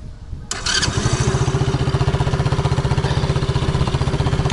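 A Mowgli Sharp ATV, brand new and on only its second start since the factory, cranks and fires after a short pause, then settles into a loud, steady, rapidly pulsing idle close by.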